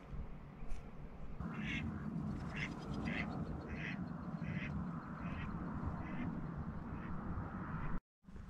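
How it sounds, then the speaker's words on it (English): Ducks quack repeatedly in short bursts near a fishing bobber on a lake, a series of moderately close calls spread over several seconds above steady outdoor background noise. "The dang ducks are going around my bobber"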